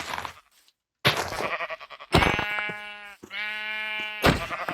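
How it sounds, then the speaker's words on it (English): Several sheep bleat in a survival video game world, with a few separate wavering calls, one long drawn-out bleat in the middle, heard close and clear between short gaps. "That's a lot of sheep."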